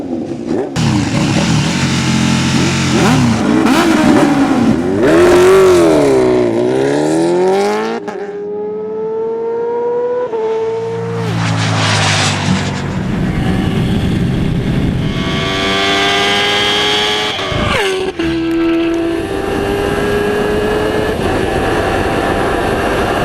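A Kawasaki H2R motorcycle revs hard and accelerates at high speed, its engine pitch climbing and wavering through repeated sweeps with brief drops between gear changes, loud and close throughout.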